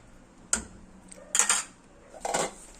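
A utensil stirs sinigang, a sour tamarind-based soup of shrimp and pork, in a cooking pot, giving three distinct metallic scrapes and clinks against the pot, close and sharp, over a quiet background.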